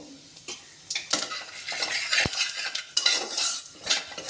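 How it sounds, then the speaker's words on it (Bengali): Cumin seeds tempering in a little hot oil in a pan, soft sizzling under frequent clinks and scrapes of a spoon against metal, no talk. "এই তেলের মধ্যে আমি এবার সামান্য একটু জিরে ফোড়ন দিয়ে দেবো"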